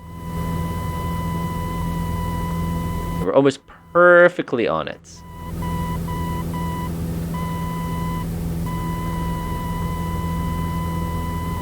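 A continuous navigation radio tone from a beam approach in Microsoft Flight Simulator, steady and high with a hum beneath. Someone speaks briefly over it midway, then the tone carries on, broken by short gaps.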